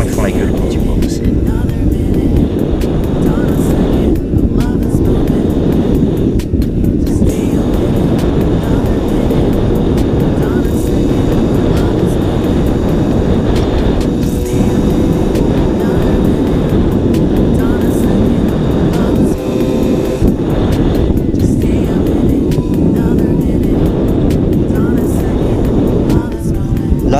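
A 70cc moped engine revs continuously as the throttle reopens on the road, loud and buzzing with rising and falling pitch throughout, with wind noise and a voice talking over it.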